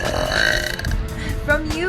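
A girl lets out a long, loud belch lasting nearly two seconds, close and forceful, with a second rasping push near the end.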